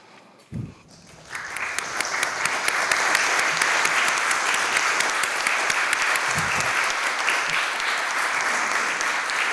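An awards ceremony audience breaks into sustained applause after a couple of early thumps, and the dense clapping holds steady and loud to the end.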